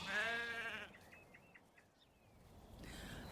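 Texel lambs bleating, several short high calls in a row, fairly faint and slightly distant, with a low murmur of voices before and after.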